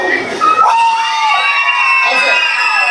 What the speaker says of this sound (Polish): dziewczyny można piszczeć